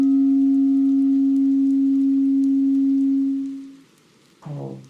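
Steady pure electronic tone guiding a breathing exercise, held evenly for over three seconds before fading out, then a short chirping tone begins, alone with no talk.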